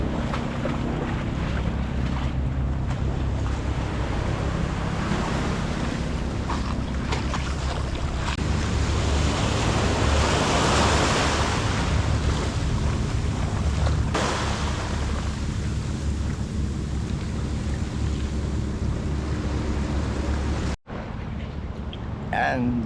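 Constant roar of sea waves on a rocky beach at Puerto Azul, Ternate, Cavite, with strong wind buffeting the microphone, continuous and loud throughout, ending with a brief cut.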